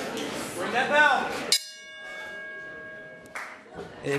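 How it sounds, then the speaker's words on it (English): A ring bell struck at a professional wrestling show in Indianapolis gives one sharp clang with a long ringing tone, after a crowd shout and announcer-style talk, then a second lighter hit near the end. "Bring that bell."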